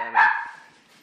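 A dog gives one short, fairly close bark in a home setting, a single sharp yelp that fades quickly into quiet.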